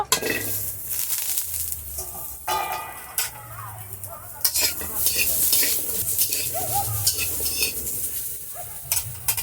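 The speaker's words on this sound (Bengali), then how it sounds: "এবার ডাঁটাটা ভেজে নেব।" Vegetable stalks (danta) frying in a pan, with continuous sizzling under repeated stirring scrapes and occasional metallic clinks of a spoon against the pan, close up, no voices.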